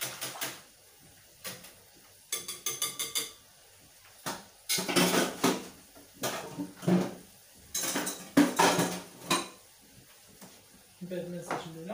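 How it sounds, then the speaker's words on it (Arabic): A whisk beats sugar into a creme caramel mixture in a bowl, producing bursts of quick metallic clinking and scraping against the bowl separated by short pauses, close and moderately loud. "غنزيدو عليه السكر بل نضربو حتى ينسجم مزيان"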